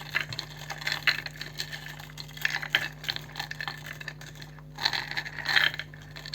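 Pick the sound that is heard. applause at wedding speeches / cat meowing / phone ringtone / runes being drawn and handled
runes being drawn and handled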